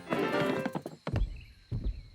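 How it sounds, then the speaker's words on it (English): Cartoon footsteps approaching, a few hollow thunking steps sounding one after another, following a short stretch of background sound. "I can hear footsteps."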